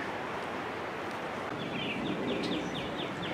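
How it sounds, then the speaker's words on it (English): Several birds, including blackbirds, give short chirping calls near a river trail, small bright notes repeating over steady outdoor rustle and wind noise in the second half. "I just heard so many different bird calls just standing in here"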